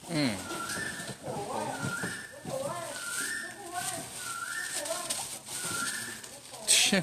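Pigeons or doves coo repeatedly in a rhythmic, rising-falling pattern near a rural Buddhist village in Isan, Thailand, while people talk over them.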